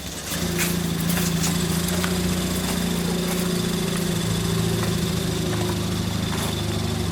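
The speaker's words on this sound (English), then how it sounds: "you can hear the turbo just like" A Ford Fiesta's turbocharged engine runs with an aftermarket downpipe and exhaust, a loud, close, steady droning hum with a throaty low buzz, holding constant for several seconds with no voices.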